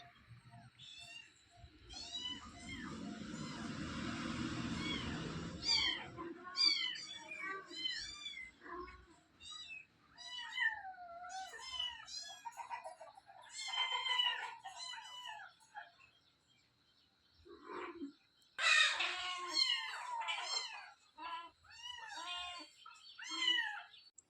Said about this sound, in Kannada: ಈಗ ನಮ್ ರಾಣಿ ಮರಿ ಹಾಕಿದ ಅಂತ ಹೇಳಿದ್ನಲ್ವಾ, ಈಗ ಅವೆಲ್ಲ ಕಣ್ಬಿಟ್ಟಿದ್ದು ಓಡಾಡ್ತಿದ್ದಾವೆ ನೋಡಿ.